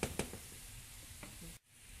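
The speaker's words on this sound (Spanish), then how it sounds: "Ahora le agrego como 4 dientecitos de ajo picadito al sofrito." Chopped garlic sizzling in a pan of sofrito for Cuban imperial rice, a steady close frying hiss with a few clinks of stirring, cutting off near the end.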